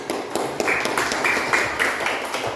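A small group claps in a short, uneven burst of applause in a classroom, a few hands beating quickly together.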